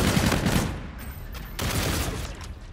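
Gunfire in the video game De-Atomizer Strike Terminal comes as a dense, loud fusillade of rapid shots, easing briefly before a second sustained burst.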